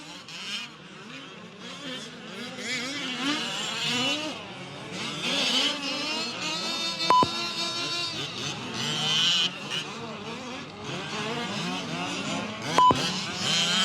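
Several 1/5 scale buggies racing around a track, their small engines whining and shifting pitch as they accelerate and pass, with an announcer talking over the racing.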